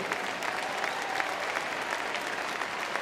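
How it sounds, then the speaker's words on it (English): An audience at a Crufts dog show arena applauds Paul O'Grady, steady dense clapping filling the hall throughout with no talk over it. "terrific round of applause there for Paul O'Grady"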